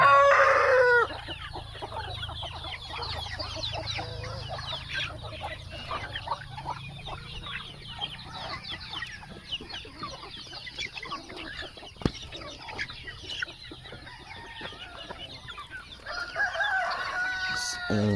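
Chickens cluck busily and continuously close by on a goat farm in San Joaquin, Iloilo, after Typhoon Odette, with a rooster crowing near the start and again at the end, over a steady farmyard background.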